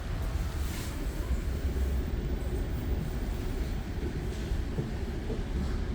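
Steady rumble inside an Exo commuter train on the Vaudreuil-Hudson Line near Montreal, with a continuous low roar and faint rattling that stays even throughout, and no talking.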